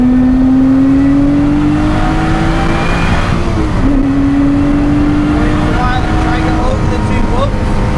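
Race car accelerating out of a hairpin at Oulton Park circuit, heard from onboard as a loud, steady engine drone whose pitch climbs gradually, dips briefly at a gear change, then rises again.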